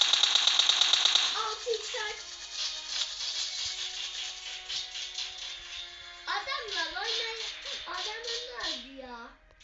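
Rapid automatic gunfire in the video game PUBG, a quick burst of shots at the start followed by people talking over faint game sounds.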